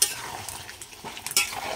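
Chicken curry with fried potatoes being sautéed in a pan, a spoon scraping and stirring through a soft sizzle with a few sharper clinks, close up and with no talking.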